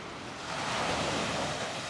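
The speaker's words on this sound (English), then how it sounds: "Don't you love that sound of the ocean?" Ocean waves rolling in at Coney Island beach on the last day of summer, a broad surging wash that swells louder partway through with no voices over it.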